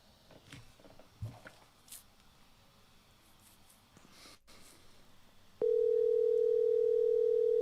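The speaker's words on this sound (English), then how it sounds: "Give him another ring." A telephone call being placed again: soft handling noises and clicks, then a loud, steady, unbroken electronic tone that runs to the end of the clip, close and alone.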